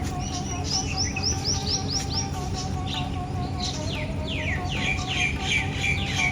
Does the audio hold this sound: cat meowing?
no